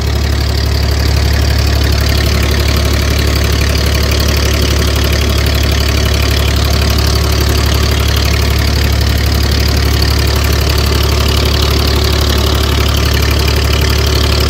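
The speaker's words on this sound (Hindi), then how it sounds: "पूरे ब्लॉग में आपको ट्रैक्टर की आवाज़ आई होगी लेकिन प्लीज़ इग्नोर कीजिएगा।" A parked tractor's engine idles steadily near open fields where a fire was just put out, a loud, continuous low mechanical rumble with knocking texture that runs unbroken throughout.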